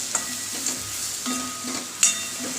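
Ground spices (red chili powder, turmeric and coriander-cumin powder) sauté in a pan for a restaurant-style dal fry, with a steady soft sizzle broken by a few distinct stirring scrapes, close and alone.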